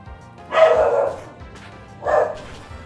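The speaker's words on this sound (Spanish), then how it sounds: "Ese perro no se cansa de ladrar" A dog kept in a backyard barks twice, two loud separate woofs with a pause between them, alone and fairly close.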